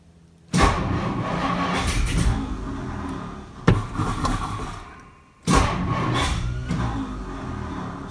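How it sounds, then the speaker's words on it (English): A 1958 Edsel's starter cranks and the engine catches three times in a row, each burst loud and close, settling into a steady idle-like roar before cutting off, with a sharp transient between attempts. "So if I hit the key, it cranks."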